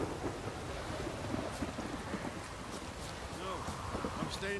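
Steady rain and low rumbling thunder in the video game The Witcher 3, a continuous wash of noise with wind, while a voice speaks over it.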